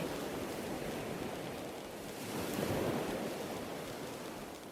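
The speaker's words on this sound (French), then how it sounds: "En contrebas, les vagues se fracassent contre les rochers acérés." Waves wash and crash against sharp rocks in a continuous roar, with a swell building midway, steady broadband surf noise and no voices.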